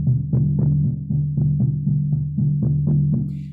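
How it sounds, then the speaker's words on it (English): A Native American powwow drum with a buffalo-skin head, struck in a steady rhythm of deep, booming beats, about a dozen hits, close and resonant with no talking. "This is a Native American powwow drum."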